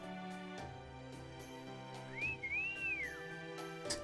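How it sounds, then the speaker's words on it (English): Kintoki whistling in Fate/Grand Order, a bright rising-and-falling whistled tune arching over soft background game music, clear and close. "oh, that's actually Kintoki whistling"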